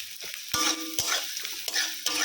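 Onions fry lightly in a pan with a continuous close sizzle, broken by several sharp scrapes and clinks of a spatula stirring against the metal. No one speaks.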